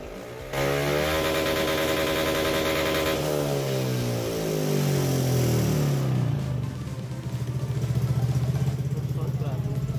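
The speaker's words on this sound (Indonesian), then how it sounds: "ini udah RPM menengah ke atasnya itu udah normal" A carbureted Honda Beat scooter engine, fault light on and a suspected throttle position sensor issue, revs steadily at mid-to-high RPM, the pitch sweeping up and down, loud and close, with a brief drop before climbing again.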